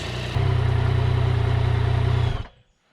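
A Yamaha MT-09 XSR900 motorcycle with an aftermarket Danmoto exhaust idles with a deep, rapid pulsing exhaust note, then cuts off abruptly near the end, leaving silence.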